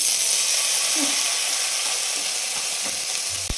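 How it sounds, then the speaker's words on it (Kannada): Two tablespoons of butter sizzle in a non-stick pan for tawa pulao, a steady close frying hiss with a few faint clinks and a soft knock at the end. "ಈಗ ಬಾಣಲಿಗೆ ಬೆಣ್ಣೆ ಸೇರಿಸ್ಕೊಳ್ತಾ ಇದ್ದೀನಿ ಟೂ ಟೇಬಲ್ ಸ್ಪೂನ್"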